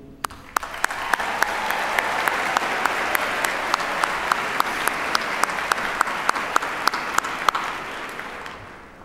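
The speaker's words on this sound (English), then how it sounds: "To our graduates, today is your day and we all applaud you" Steady applause from a graduation ceremony audience fills the hall, dense and sustained with sharp individual claps standing out, holding level before tapering off at the end.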